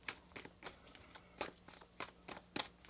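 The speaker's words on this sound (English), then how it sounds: "One more shuffle." Tarot cards being shuffled in several quick riffling bursts with short pauses between, close and fairly soft, no talking.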